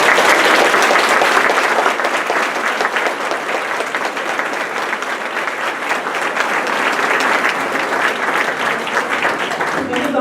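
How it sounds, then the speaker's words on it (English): A room full of people applauds the winners of an MLK art and essay contest at a mayor's presentation, with dense, steady clapping that carries on for the full ten seconds. "let's give them all a round of applause"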